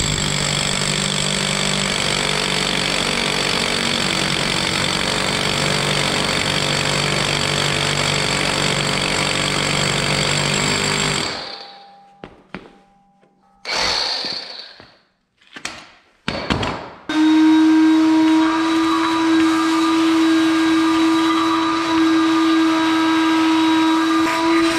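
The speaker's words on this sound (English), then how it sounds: "I want to take the big rotary drill and finish up to the size I need for the inserts." A big rotary drill boring holes to size for 3/8-16 threaded inserts for floor mounts on a compact bender: a loud, steady whining drone for about eleven seconds, then brief bursts and clunks, then another sustained high-pitched run.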